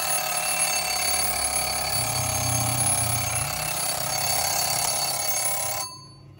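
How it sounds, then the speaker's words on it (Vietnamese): A vintage rooster alarm clock rings continuously for about six seconds, a steady bright electronic tone with a low warbling undertone, then abruptly stops. "đồng hồ báo thức mặt sau là còn hoạt động rất là tốt nha"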